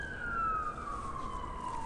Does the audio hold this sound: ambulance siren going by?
yes